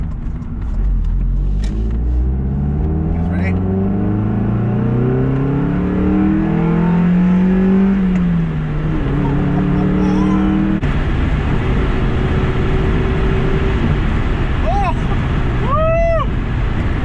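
A 1999 Mazda Miata with a 5-speed manual, heard from the cabin on a test drive. The engine revs up through several rising pulls with gear changes between them, loud and close. A voice is faintly heard at times.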